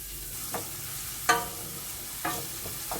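Onion and ginger garlic paste fry in a pan under a steady low sizzle, broken by a few sharp spoon scrapes and clinks as they are stirred. There is no talk.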